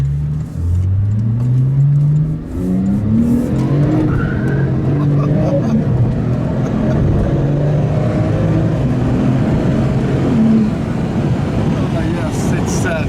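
A Ruf RT35 Anniversary 991, rear-engined and rear-wheel drive, revs hard and downshifts in a series of rising and falling engine sweeps, loud and close from inside the cabin, with a brief voice in the middle.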